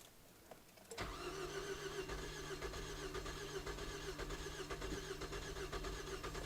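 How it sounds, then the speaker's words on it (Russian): A car engine cranks, catches after about a second and then runs in a loud, steady drone with the throttle floored to purge the cylinders, a faint click heard before it starts. "Газ в пол. Продуваем цилиндры."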